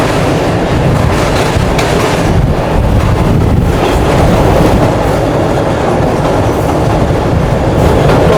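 Karakoram Express passenger train running from Karachi to Rohri, a loud steady rumble of wheels on track with faint clickety-clack and strong wind buffeting the microphone, continuous throughout with no talk.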